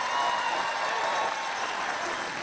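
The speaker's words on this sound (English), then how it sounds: "An applause also for him" A crowd applauds the pastor of St. James at a parish welcoming gathering for an archbishop in Colorado, steady dense clapping sustained throughout at moderate level with no voices over it.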